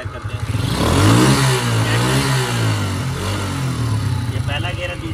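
A water-powered motorcycle engine revs in first gear, rising to a loud buzzing peak and then settling, with someone talking over it close by.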